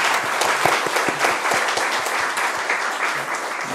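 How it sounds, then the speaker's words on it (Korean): Applause fills the room at the close of a Ulsan city council budget committee session, steady, dense clapping from the gathered members and officials, moderately loud throughout. "앞날의 영광을 기원하며 다시 한번 힘찬 박수를 부탁드리겠습니다."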